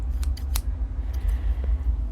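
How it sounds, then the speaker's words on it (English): Scissors snip a few times while pothos cuttings are prepared for propagation indoors, giving several crisp, short cuts spaced across the moment over a low steady background hum. "Alright, I got my scissors."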